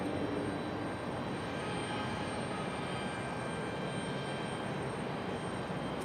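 Icelandair airliner at Raleigh Durham International Airport during pushback, its jet engines giving a steady broadband roar that holds loud and even throughout, heard from a distance with no voices.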